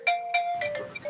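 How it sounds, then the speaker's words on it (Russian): A telephone ringtone plays in the Pummel Party video game, a short run of bright electronic chimes, loud and close, with no talking. "Телефон звонит."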